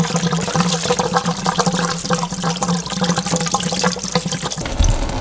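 Engine coolant gushes from a disconnected radiator hose on an Evo 9 into a catch pan, a steady close splashing pour that ends with a brief clunk.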